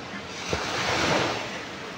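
Sea waves washing onto a shore in Guam, a broad steady rush of surf with some wind noise, swelling slightly in the middle and continuing without a break.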